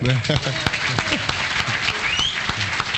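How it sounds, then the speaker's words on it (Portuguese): A studio audience at a Brazilian TV programme claps enthusiastically, dense steady applause with a voice briefly audible over it. "Então, vamos aplaudir o Marco"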